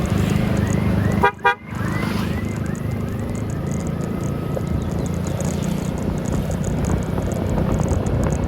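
Dense road traffic rumbles along a congested single-lane, two-way road on a Sunday trip from Surabaya to Dieng, with two quick car horn toots near the start, then a steady engine and tyre drone.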